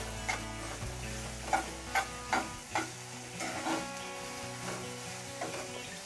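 Green chillies and potato pieces sauté in a pan over low heat. A quiet steady sizzle runs under a series of distinct spatula scrapes and taps, about one each half-second early on, with a faint tonal hum underneath and no talking.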